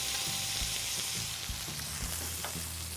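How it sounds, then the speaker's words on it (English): Beef browns in a skillet for Beef Wellington, a steady close sizzle with faint spattering crackles throughout and no voices. "let this cook undisturbed for 2 to 3 minutes or until it's nicely browned on the bottom"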